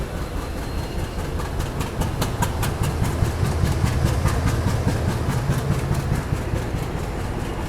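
A long Indian passenger train hauled by a WDG 6G locomotive rolls into Badarpur Junction in the Barak Valley during monsoon, with steady rumble and rhythmic clickety-clack of wheels over rail joints, continuous and close throughout.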